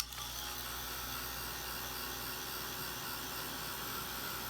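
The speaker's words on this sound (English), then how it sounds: "So I'm going to take my heat tool this time" A handheld heat tool blowing hot air to dry Tim Holtz embossing glaze, a steady close whirring hum with a faint mechanical rattle that runs unbroken throughout.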